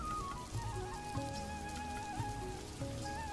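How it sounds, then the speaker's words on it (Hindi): Heavy rain pours down steadily on surfaces, a continuous hiss and patter with soft melodic tones running beneath it. "एक दिन तेज बारिश हो रही थी।"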